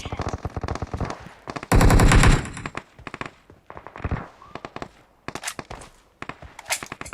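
Gunfire in the PUBG Mobile video game: rapid automatic bursts and single shots crackle loudly and close, with one dense sustained volley in the middle and short gaps between the rest.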